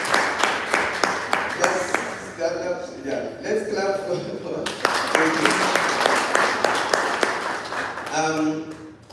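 Congregation at an investment forum in Toronto claps together, a dense stretch of hand claps running throughout with voices talking and calling out over it.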